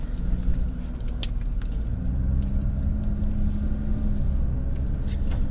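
A Nissan GTR rolls slowly with a steady low engine rumble and road noise heard from inside the cabin, and no voices.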